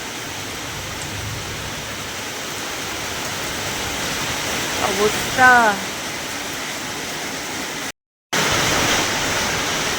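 Torrential downpour hisses as a dense, steady roar of heavy rain throughout, with a short voice briefly heard over it and a momentary dropout near the end.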